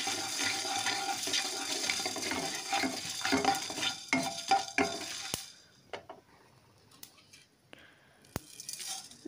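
Coriander seeds fry in a pan for tamarind pickle, a busy crackling sizzle with frequent stirring scrapes that fades to a quieter hiss punctuated by occasional sharp clinks.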